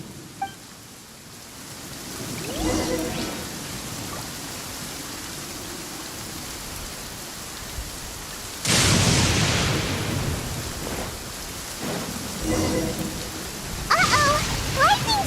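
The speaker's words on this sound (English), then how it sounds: "Uh-oh! Lightning storm!" Rain falls steadily during a lightning storm in Genshin Impact, a constant hiss broken by sharp bursts of thunder cracks midway and near the end.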